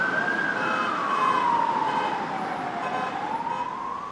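An ambulance siren wails steadily outside a courthouse, a loud continuous tone sliding slowly down and back up over a low traffic rumble, with no talk.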